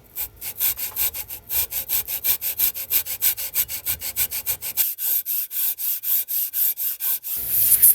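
A saw cuts a deeper slot into the nut of a guitar. Steady, close back-and-forth strokes repeat in an even rhythm, with no talking and a short pause near the end.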